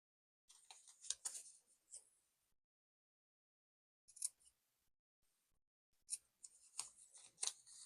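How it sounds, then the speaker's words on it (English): Scissors trim a fabric seam allowance on a quilt block: crisp, close snipping in short rapid clusters separated by a silent pause, with no talking. "So now I'm going to just break out my scissors and trim it down"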